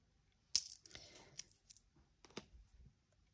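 Coins clink and are shuffled by hand while euro change is counted into an envelope: a sharp close metallic chink followed by scattered soft clicks and rustles, faint and isolated, with quiet gaps between.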